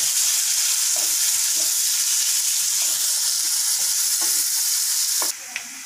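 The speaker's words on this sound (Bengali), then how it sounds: "পেঁয়াজ কুচিটা দিয়ে গিয়ে ভালো করে ভেজে নেব।" Chopped onion frying in a pan while making masala paneer, giving a steady close sizzle with light stirring scrapes throughout and no talking.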